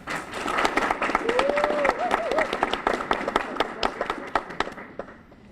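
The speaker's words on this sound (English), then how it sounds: "Let's give all our participants and guests a round of applause" Audience at an opening session applauding participants and guests, full crowd clapping with a brief vocal whoop in the middle, then thinning into scattered individual claps that fade out.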